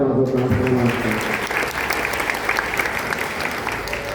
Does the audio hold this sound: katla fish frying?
no